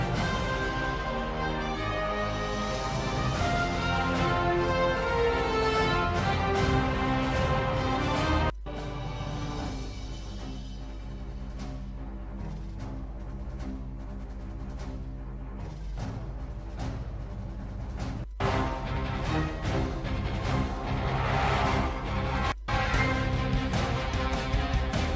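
An epic-sounding stretch of video game soundtrack plays loud and dense from start to finish, with short breaks near 8, 18 and 22 seconds where the music drops out and comes back in.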